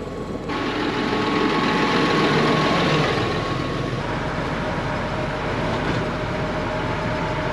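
Samasz butterfly mowers spinning to clear grass off the rollers, a loud, steady mechanical drone of machinery and tractor engine, running unbroken with no talk.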